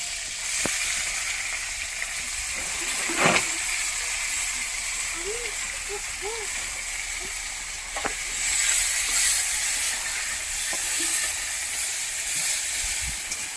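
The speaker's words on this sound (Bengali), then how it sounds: "এখানে মাংস কষা হচ্ছে" Meat sizzles steadily in a pan as it is sautéed kosha style, a constant frying hiss broken by occasional scrapes and stirring knocks, with a few faint chirpy background sounds.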